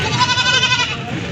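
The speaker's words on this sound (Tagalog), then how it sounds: "Ito po yung mga pangkatay na kambing." Goats for slaughter at a livestock market in Padre Garcia, Batangas bleat loudly and close, wavering cries overlapping in a dense chorus that runs throughout.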